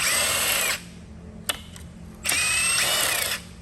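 An impact gun with a 12-point socket removes torque-to-yield bolts during a 2013-2016 Hyundai Genesis coupe 3.8 engine teardown, two loud close whirring bursts with a couple of sharp clicks between.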